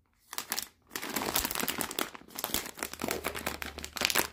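Sealed plastic packaging around a new ski hat being pulled and torn open by hand, a close, busy run of crinkling, rustling and ripping bursts with a brief pause near the start.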